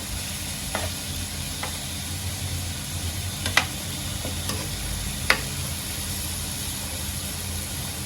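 Drumstick pods sautéing in oil in a pan, a steady low sizzle under faint background hum, broken by a few soft clicks and scrapes from stirring.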